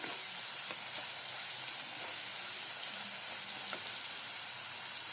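Asafoetida, turmeric and coriander powder frying in a pan for mushroom paneer masala, a continuous close sizzle with faint stirring scrapes, no voices.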